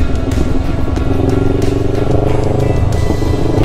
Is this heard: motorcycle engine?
yes